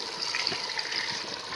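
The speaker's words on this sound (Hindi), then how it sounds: "इसमें ऐड कर देंगे हम पानी, 1 लीटर पानी इसमें ऐड करेंगे" Water is poured into a pot of beef rogan josh, a faint, soft continuous splashing gush lasting just over a second.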